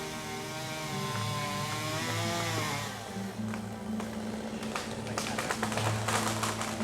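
A big chainsaw trims a tree canopy in a forest, its engine revving with a rising and falling harmonic whine, then settling into steady cutting with crackling and snapping of branches, loud and close.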